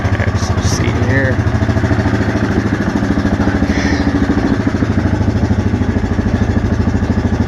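A 2024 Yamaha Grizzly SE ATV engine idles while warming up, a steady, loud, close thrumming putter that holds an even rhythm throughout.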